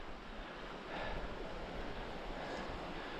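Surf rolls steadily onto an island beach as the tide pushes in, a continuous wash of breaking waves with wind noise over it and swells rising around the middle.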